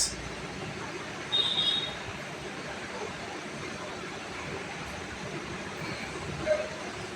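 Passenger train running on the Badarpur to Guwahati line after leaving a station, a steady rumbling rail noise with a faint whistle-like squeal early on and voices talking over it.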